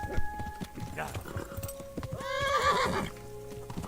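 A horse in the video game Kingdom Come: Deliverance clops along at pace with dense hoofbeats, then gives a loud, wavering neigh. Faint talk sits under the sound.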